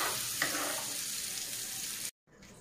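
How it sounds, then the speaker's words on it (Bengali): Taro (kochu mukhi) frying in hot oil with a little turmeric, a steady close sizzle and crackle for about two seconds before cutting off abruptly. "লাল লাল করে ভেজে নেবো কচুরমুখীগুলো।"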